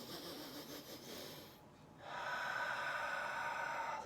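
A soft fluttering in-breath during a calming tapping exercise, a quiet close breathy rush that dips briefly and then returns as a steady airy inhale.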